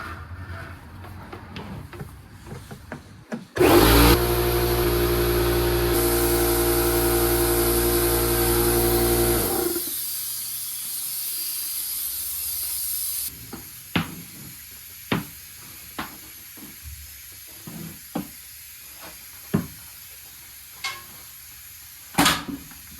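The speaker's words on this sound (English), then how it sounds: "This heap of shit compressor that is still leaking out air" A leaky air compressor pumps up car tyres, running loud and steady for several seconds, then dropping to a quieter hiss, followed by scattered sharp clicks and knocks.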